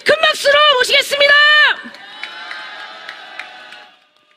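Crowd at an outdoor candlelight rally cheering and shouting for a singer, loud bursts of whoops and shouts for under two seconds, then fading into a sparse, quieter spread of scattered applause and voices.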